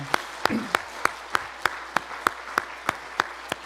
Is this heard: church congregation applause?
yes